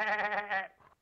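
Cartoon dog Snoopy's vocal imitation of a sheep, a wavering bleat held for most of a second before trailing off, close and clear, alone, with a brief new sound starting at the very end.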